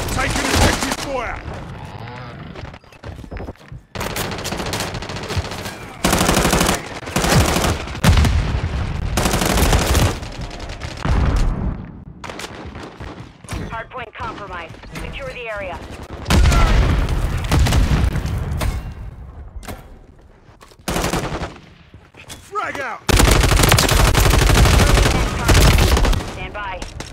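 Gunfire in a Call of Duty MW3 Hardpoint match: loud, dense bursts of automatic fire and booming shots come in repeated volleys with short gaps between them, close and heavy throughout.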